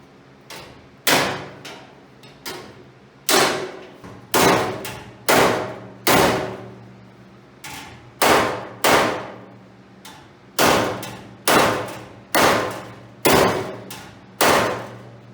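A hammer strikes a 1968 Mercury Cougar's front-end body metal again and again, each blow a sharp ringing clang at a steady, unhurried pace with short pauses between hits.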